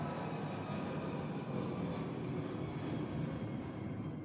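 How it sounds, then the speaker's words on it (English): A loud airplane passing close overhead, a continuous broad roar that fills the whole stretch at steady strength, with no voices over it. "the planes, when they're close by, oh my lord, they make such a big noise"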